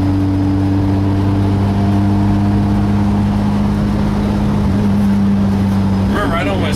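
A restored bus engine rumbles steadily with a low, constant drone as the vehicle pulls away, building slightly toward the end with a brief burst of louder mechanical noise.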